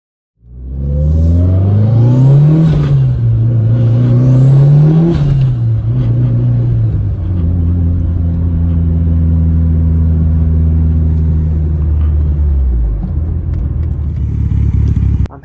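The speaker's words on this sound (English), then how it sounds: "I'm happy to say that the car runs perfectly now." A yellow Mitsubishi Lancer Evolution VIII, newly repaired after wiring work, starts and idles loudly up close, revs twice in quick rising and falling swells, then settles to a steady idle that later drops lower.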